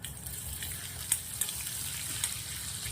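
Steady frying hiss of cumin seeds in hot oil with a few sharp pops and crackles, close by, with no voices.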